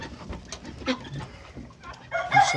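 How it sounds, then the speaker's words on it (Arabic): A rooster clucks in a farmyard coop, sounding as short, fairly close clucks and calls mixed with other fowl noises, ending in a louder burst. "ما شاء الله الديك بيحام على مكانه"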